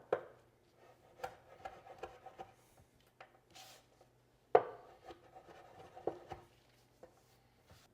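Black garlic cloves broken apart and rubbed by hand over a raw ribeye steak, giving soft, close scraping and rubbing with scattered light taps and knocks, quiet overall and without talk.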